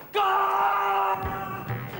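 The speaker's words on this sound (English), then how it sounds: "What was that screaming I just heard?" A sustained high scream or yell rings out for about a second, loud and close, then fades into muffled commotion.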